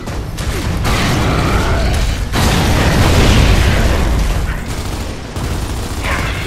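Frag grenade detonating in the video game Gears of War 3, a loud booming blast amid sustained gunfire and battle noise, with shouting voices over the combat.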